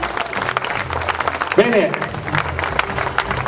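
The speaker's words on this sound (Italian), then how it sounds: "Vogliamo fare un applauso a 6 di Neviano 6?" Audience at an evening event in Neviano applauds the group 6 di Neviano 6, a crowd clapping throughout while someone speaks over it.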